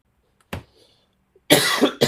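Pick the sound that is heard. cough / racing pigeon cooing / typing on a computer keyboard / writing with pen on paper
cough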